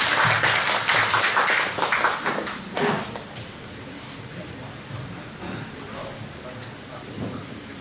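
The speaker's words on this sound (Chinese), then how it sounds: "掌声欢迎他们" An audience at a cross-strait Yue opera exchange performance applauds guests coming on stage, loud for about three seconds before it fades to a low murmur of the room.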